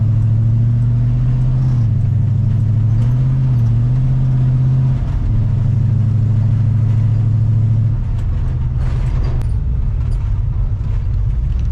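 Chevrolet C10 truck with a big block 454 engine idling loud and close, a deep steady rumble that climbs and dips slightly before settling into a rougher idle.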